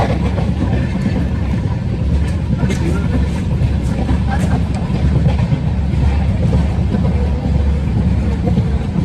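A train on the Latur to Pune route runs with a constant low rumble and wind-like rush, a steady interior roar with no pauses.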